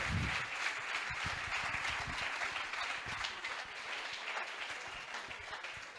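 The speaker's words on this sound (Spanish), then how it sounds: "Aplauso, ¿no? Sentirse arropado." A seated audience at a football club talk applauds warmly, a thick unbroken wash of clapping from many hands that stays even for around six seconds.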